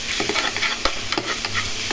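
Pork cooked in a little oil is stirred and fried in a pan with onion. A close, soft sizzle runs under quick spatula scrapes and taps.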